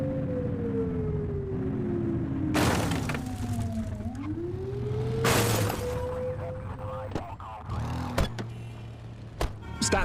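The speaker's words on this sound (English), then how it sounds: "blip the siren to make them pull over" Police car siren in a video game wails with rising and falling sweeps, mixed with crashing impacts and engine noise across the scene.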